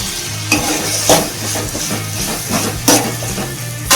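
Tomato, coconut pieces and fennel seeds sizzle in oil for brinjal curry, a loud steady frying hiss broken by a few sharp spatula scrapes against the pan.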